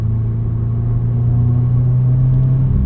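A 2020 Subaru WRX engine heard from inside the car, a loud, close droning rumble that climbs steadily in pitch as it revs toward redline, with no talking.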